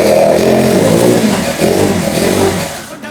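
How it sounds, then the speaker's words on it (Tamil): A small petrol engine on a kids' ride-on vehicle is pull-started and revs loudly and close, a steady buzzing drone that dips briefly, then fades toward the end. "வண்டி ரோப் எடுக்கிறோம். வண்டி ஸ்டார்ட் ஆகிடுச்சு."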